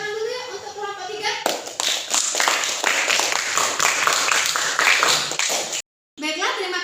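Classroom clapping from a group of children applauding a group's presentation, a dense burst of many hands lasting several seconds, with a brief break and young voices talking before and after.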